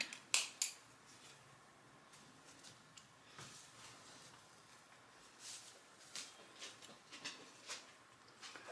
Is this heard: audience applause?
no